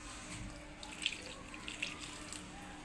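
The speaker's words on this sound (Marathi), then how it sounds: "सगळी पाणी टाकून भाज्या धुवून घेऊ" Vegetables such as brinjal and potatoes are rinsed under a running kitchen tap, a soft steady stream of water with light splashes and clinks, quiet and with no talking.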